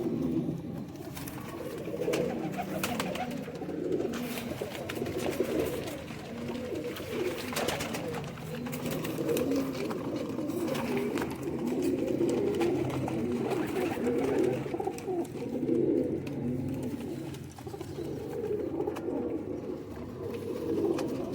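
Pigeons coo continuously in low, rolling murmurs, several birds close by, with soft fluttering and rustling throughout.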